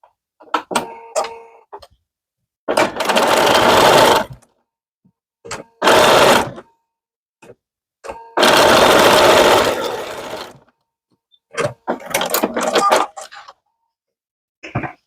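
A sewing machine stitches fall-fabric quilt block pieces together in several runs of a few seconds each, loud and close. Shorter bursts and handling clicks fall between the runs, with no talking.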